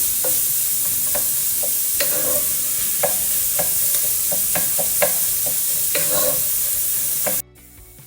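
Fatty meat fries in its own rendered fat with no added oil, steady close sizzling and spitting throughout, dotted with sharp crackles and pops, before the sound cuts off abruptly near the end.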